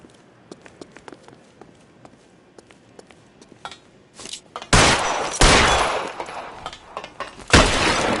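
Gunfire in a firefight starts as sparse sharp shots and footsteps, then breaks into loud, sustained bursts of automatic fire from about the midpoint onward, close and heavy with brief pauses.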